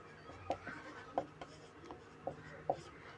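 Pen or chalk strokes while a maths equation is written out during a Class 10 algebra lesson: a few short, faint scratchy taps spaced about half a second apart, with low room noise and no talk.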